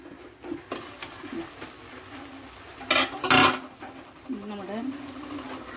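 The lid comes off a pot of cooking beef, a pair of loud metallic clanks and scrapes in the middle of a quiet kitchen, with someone talking softly around them.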